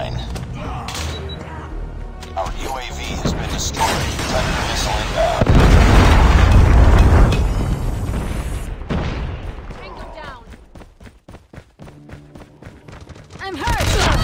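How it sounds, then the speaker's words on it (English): A Predator missile strike explodes in a Call of Duty-style multiplayer shooter, a loud booming blast that swells midway and decays. Gunfire and game sounds come before and after it, with sharp pops trailing at the end. "Predator missile inbound."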